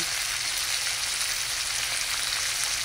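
Tamban fish frying in a pan of hot oil, a steady, close and fairly loud sizzle with dense crackle that holds evenly throughout, no voices.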